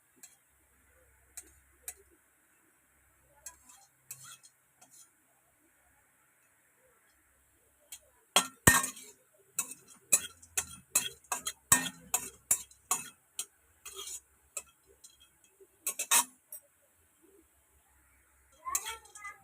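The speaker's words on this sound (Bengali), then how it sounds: "দালচিনি শক্ত, ওই জন্য ভেঙে ছোটো ছোটো করে নেবেন।" Hard cinnamon sticks are snapped into small pieces by hand in a kitchen, giving a quick series of sharp, close cracks and clicks in otherwise quiet surroundings.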